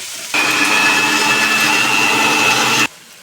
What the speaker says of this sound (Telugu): మిక్సీ పట్టుకున్నాం